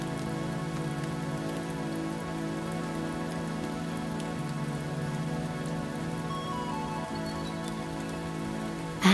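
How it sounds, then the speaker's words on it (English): Steady rain falls on a surface in a continuous, even wash of drops, close and moderately loud throughout with no voices, ending on a slightly louder burst. "As you listen to the rain"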